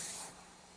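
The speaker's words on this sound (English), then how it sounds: "Now I'll get it out with steam. Let the Dupray neat do all the work." Dupray NEAT steam cleaner blasting steam onto carpet, a sharp hiss that fades within a fraction of a second, close and fairly quiet.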